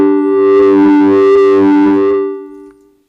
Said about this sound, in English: Maybe use the pedal and an LFO to create a bit of subtle distortion.